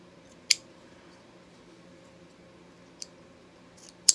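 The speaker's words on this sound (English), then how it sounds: "You're just going to cut off the ends" Scissors snip off the ends of elastic sewn onto a romper neckband, heard as three sharp isolated clicks spread over a few quiet seconds.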